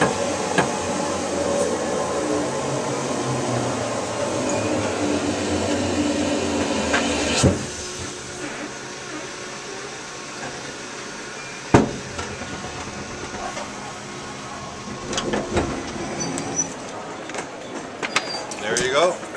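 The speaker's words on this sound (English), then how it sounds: "That's the two-man elevator, 450 pounds capacity, travels 30 feet per minute." A two-person pneumatic vacuum elevator rated for 450 pounds and travelling 30 feet per minute gives off a steady airy whooshing drone, broken by a few sharp mechanical clunks and knocks as it moves.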